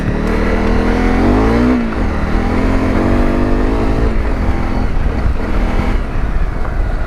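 A Honda CRF250 Rally motorcycle engine revs loudly up close while riding off road on dirt with new tyres. The engine note rises and falls as the throttle changes, with a rough droning pitch throughout.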